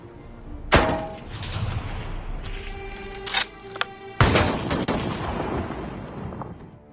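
Several sharp gunshots ring out at irregular intervals, two loud blasts with echoing tails and a few quicker, smaller shots between them.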